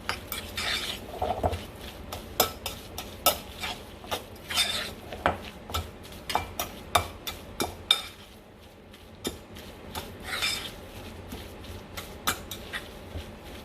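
Salmon patty mixture is worked in a bowl with steady, repeated clinks and soft scrapes of a utensil against the dish, fairly quiet and rhythmic, pausing briefly near the end.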